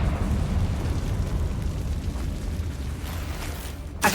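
A Confringo fire-blast spell explodes in the Hogwarts Legacy video game, a sustained loud rumbling blast that roars steadily for several seconds before a sharp final burst at the end.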